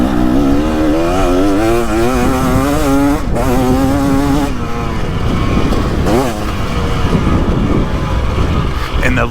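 A 2023 KTM 300XC two-stroke dirt bike engine accelerates hard on a trail ride, its loud rising whine climbing through gears with brief drops between shifts, close and continuous with a voice talking over it.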